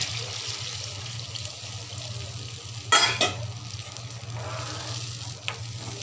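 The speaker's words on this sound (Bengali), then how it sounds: "এখন দিয়ে দেব পরিমাণ মতো জল" Water poured into a hot pan for a fish curry with koi fish: a steady sizzling hiss, broken around the middle by a brief louder rush and splash, then settling back to a constant bubbling fry.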